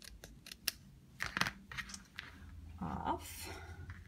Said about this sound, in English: I might need to cut a little bit more off of this actually